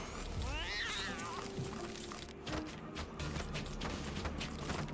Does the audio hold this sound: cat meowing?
yes